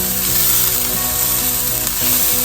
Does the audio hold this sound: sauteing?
yes